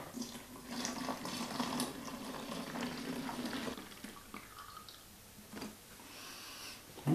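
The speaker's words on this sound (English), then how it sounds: "Now I'm going to rinse the canister with 2 liters of hot water." Hot tap water poured into a beer kit canister for rinsing, a steady splashing and gurgling stream that runs for several seconds, then thins out to quieter trickling near the end.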